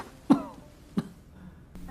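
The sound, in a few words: cough of the second brother waking up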